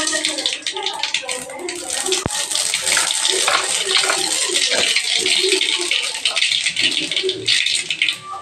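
Mustard seeds hit hot oil while cooking brinjal egg rice, giving a busy crackling and popping spatter that stays constant and close, with a sharp click partway through and someone talking over it.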